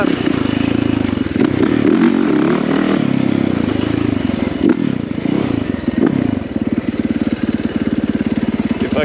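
A 450cc dirt bike engine revs loudly and close while riding, its throaty roar holding steady before settling into a rapid, pulsing putter with clattering and scraping mixed in.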